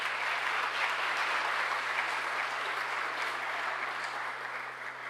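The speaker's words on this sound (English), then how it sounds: "give him a round of applause as he makes his way" Audience clapping at a Martin Luther King awards ceremony as a student walks to the front, a dense, even roar of applause that carries on for several seconds and eases slightly toward the end, with a low steady hum beneath.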